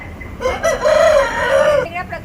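A rooster crows once, loud and close, its drawn-out call rising and wavering over faint background noise.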